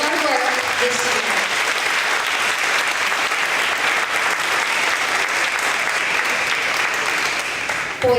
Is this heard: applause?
yes